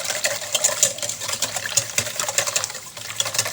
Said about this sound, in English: We're going to give those a little whisk